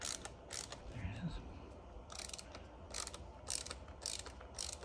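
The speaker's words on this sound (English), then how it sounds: "Okay, so I got these 2 screws loose." Small screws are worked loose on a Torqeedo electric boat motor during a teardown and repair. Faint, sparse ratcheting clicks and scrapes come from close by, with no talking.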